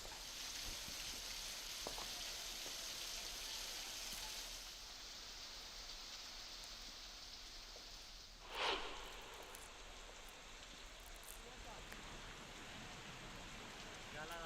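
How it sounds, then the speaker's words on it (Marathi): Continuous heavy rain hiss in Kolhapur, Maharashtra, fairly faint and even throughout, with a brief louder splash or rustle partway through. "कोल्हापूरच्या धरण क्षेत्रात दमदार पाऊस पडतोय"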